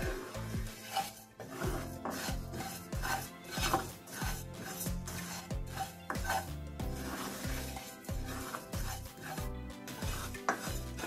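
A spoon stirs fennel seeds nonstop as they roast in a pan over a slow flame, giving close, steady scraping and light clinking with no talk.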